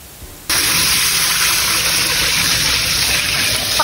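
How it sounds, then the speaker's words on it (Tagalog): A bowl of water is poured into a cooking pot while making arroz caldo with turmeric, pepper and fish sauce: a sudden, loud, steady gushing splash starts and continues without a break, with no talk. "Maglagay na tayo ng patis at isang bowl na tubig."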